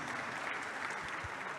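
A crowd at a political conference in Mexico applauds, dense continuous clapping held at an even level for the whole stretch, no voices on top.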